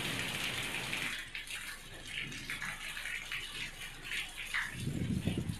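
Heavy unseasonal rain pours down in a steady, dense wash of falling water, continuous and fairly soft from start to finish.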